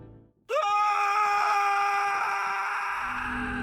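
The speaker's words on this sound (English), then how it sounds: "A scream." A scream bursts out suddenly after a brief hush, a loud sustained desperate wail with strong tonal overtones that holds for about three seconds before tapering off.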